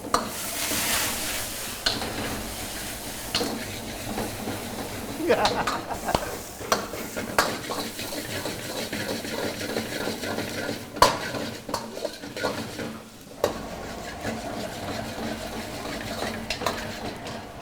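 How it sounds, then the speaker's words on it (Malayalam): Sliced garlic and ginger fry in oil in a pan, with a steady sizzle under frequent stirring, clinks of a metal spoon and pot noises throughout. "ആദ്യം കുറച്ച് എണ്ണ ഒഴിച്ചു അതിനുശേഷം കുറച്ച് ഇഞ്ചി ഇട്ടു അതിനുശേഷം കുറച്ച് വെളുത്തുള്ളി സ്ലൈസ് ചെയ്തിട്ടു"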